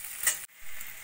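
In a pan, fried amla is stirred with sugarcane jaggery, making a brief, soft sizzle with stirring scrapes and a short gap midway.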